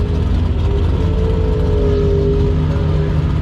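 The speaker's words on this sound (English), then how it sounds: "Every time I flat foot it, it cuts out and I'm backing out to about 3/4 throttle the whole way around" Race car engine at full throttle cutting out during qualifying laps, a loud, steady mid-pitched engine roar with slight wavering in pitch, close and continuous with no voices.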